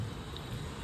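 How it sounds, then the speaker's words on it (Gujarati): Steady rain hisses softly, an even wash of falling drops with no voices. "કેવો વરસાદ આવે છે?"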